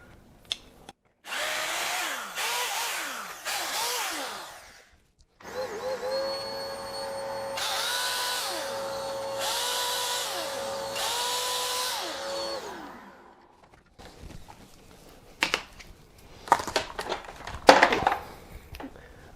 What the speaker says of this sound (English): I'm just going to use the drill to lift it out.